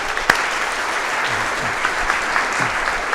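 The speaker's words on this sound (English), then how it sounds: "Let's give a round of applause." A room full of people at a tech meetup claps steadily and continuously, a dense even applause with a few sharper individual claps standing out.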